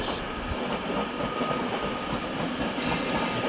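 An Alex locomotive hauling České dráhy coaches rolls toward München Hbf. A steady rumble of wheels on rails carries a faint clickety-clack and a thin squeal, heard at a moderate distance without voices.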